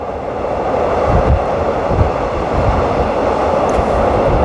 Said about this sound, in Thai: ส่วนรถไฟของเราก็จะเข้าจอดสถานีดอนเมือง